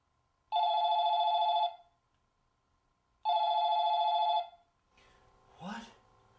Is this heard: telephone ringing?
yes